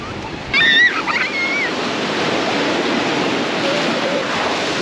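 Big sea waves crash on a beach at Dziwnówek under strong, gusty wind, making a loud, continuous roar and hiss, with a few brief high whistling tones near the start.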